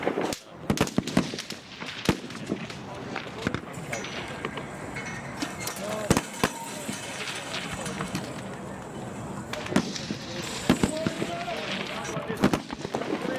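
Marine recruits fire live rifle rounds on a range, producing a string of sharp, loud cracks at irregular intervals, some close together, with voices in the background between shots.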